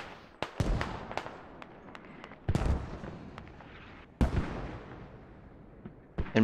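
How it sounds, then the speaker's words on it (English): Mortar rounds fire in a military video game on the Narva map. Sharp, heavy booms come at irregular intervals of one to two seconds, each trailing off into a rumbling decay, with lighter pops between them. "And Bert, still on that mortar, still dropping rounds this entire match."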